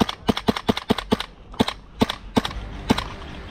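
A rapid string of sharp, snappy airsoft rifle shots, about a dozen in quick irregular bursts, fairly close with a short pause before the last few.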